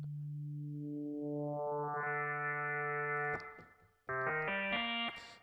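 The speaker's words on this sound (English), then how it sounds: "when I basically apply frequency modulation by moving the slider here, you see that the sound is moving from a basic sine wave like this to a more complex" A software synthesizer tone sweeping from a plain sine wave into a bright, buzzy complex sound as frequency modulation increases, sustained and loud, then cutting off and returning as a short series of stepped, shifting notes.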